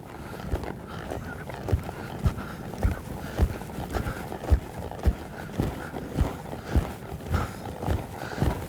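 A horse lopes with a steady rhythmic beat of hoof thuds repeating about every half second during lead change training, moderately close, over faint background noise and no talk.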